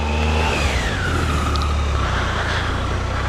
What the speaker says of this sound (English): Little baby burnout.